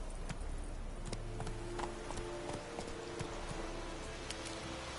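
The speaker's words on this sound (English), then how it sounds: "Run, Roach" Horse hooves clip-clopping steadily at a fast pace in The Witcher 3, with a low rumbling background bed and a few brief louder accents, no talking.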